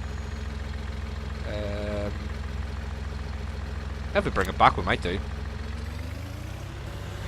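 An Avery truck engine idles steadily close by, a low constant rumble running under people talking throughout.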